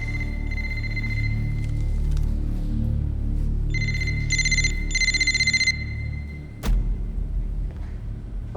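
A telephone ringing during a Turkish TV drama, sharp electronic ring bursts over a low rumbling background, followed by a loud clunk and quieter rumble.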